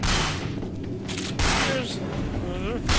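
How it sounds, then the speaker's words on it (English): Gunfire in the RAGE video game comes as loud, dense bursts of shots and booms. Someone talks excitedly over the shooting for the whole three seconds. "Whoa, bullets!"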